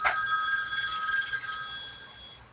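A telephone bell rings in a steady, continuous trill that fills the whole stretch, fairly loud and close, with no voices over it.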